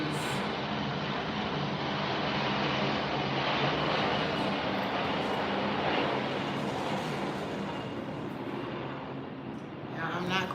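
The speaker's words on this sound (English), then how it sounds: "Why are there so many planes?" Several airplanes flying overhead on a hot day, a continuous broad roar that swells and fades slightly while faint voices talk beneath it.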